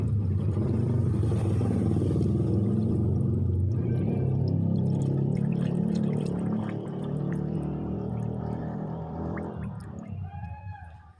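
A steady gurgling pour of coolant into the radiator of a Daihatsu Gran Max, continuous and close, tapering off toward the end.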